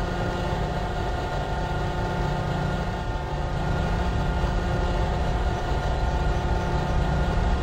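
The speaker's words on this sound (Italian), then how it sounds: "8:57 proveniente da Busalla e diretto a Genova Brignole è in arrivo al binario 14" A train from Busalla rolls in at platform 14 of Genova Piazza Principe station, a steady, loud low rumble of wheels and engine filling the whole stretch without letup and with no voices over it.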